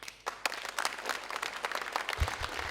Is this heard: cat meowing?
no